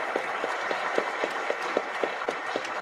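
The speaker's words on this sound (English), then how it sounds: "A huge round of applause for Mr." Audience applause welcoming OpenAI CEO Sam Altman on stage at a fireside event at IIT Delhi, a steady, fairly faint wash of clapping with a few sharper individual claps standing out at a regular rhythm.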